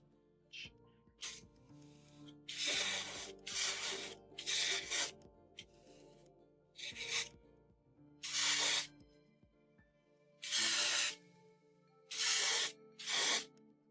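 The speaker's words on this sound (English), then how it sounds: "Now I'm going to load the airbrush with a little bit of white and just do a top-down spray to bring out the highlights." An airbrush sprays white paint onto a 1/35 scale Tamiya Panzer I Ausf.B model tank in repeated short hissing bursts of a second or so, separated by quiet pauses, close and fairly loud.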